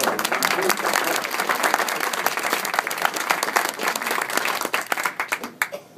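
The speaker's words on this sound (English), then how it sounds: "Let's give it a round of applause." Loud crowd applause at an Occupy Santa Fe panel event at Collected Works bookstore, dense clapping that thins out toward the end.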